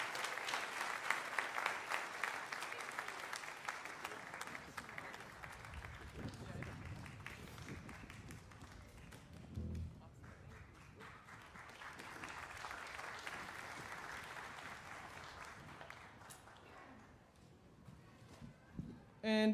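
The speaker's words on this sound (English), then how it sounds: "So one more round of applause for Molly Redfield for her service." A large concert audience at a junior and senior high honor jazz band performance applauds Molly Redfield, sustained loud clapping and cheering that eases and swells again before fading, with some voices mixed in.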